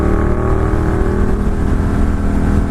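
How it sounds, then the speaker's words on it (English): Ducati Monster 1200 motorcycle engine chugging at low RPM, a loud, steady, rumbling low-frequency throb heard close up and alone, with no pauses or revving. "when it gets down to those low RPMs, it's just kind of like chugging"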